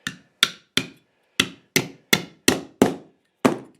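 Nine sharp hammer blows drive tacks into a wooden carpenter bee trap, each crisp close strike ringing briefly, coming in an uneven rhythm with short pauses between, no voices.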